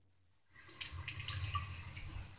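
A kitchen tap is turned on to fill water for an elderly dog, a steady close rushing stream starting abruptly after a brief silence and running on alone.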